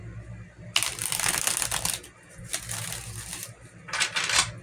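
Tarot cards being shuffled in quick papery riffling bursts, three distinct flurries separated by short pauses, close and fairly loud.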